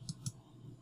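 A single mouse click on the Distribute Centers button in Inkscape, heard as two quick, soft, close taps, a press and a release, over a faint room hiss.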